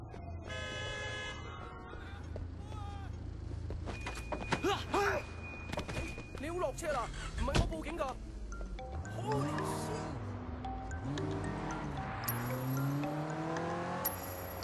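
Driving in the video game Sleeping Dogs: a car engine revs and accelerates, with bursts of horn honking, a tire squeal and thuds, and talking on top.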